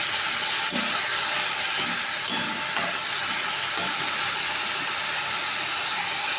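Steady broadband sizzle of food frying in a pan, with a few faint clicks and taps of a utensil now and then; no voices.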